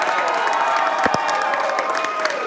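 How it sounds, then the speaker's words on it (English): A large crowd at an election victory speech by the Victorian Premier cheers and applauds loudly, a dense, continuous roar of clapping and shouts with a few sharper claps poking through. "We'll give our nurses a big round of applause."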